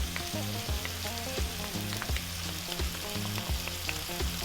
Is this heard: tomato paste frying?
yes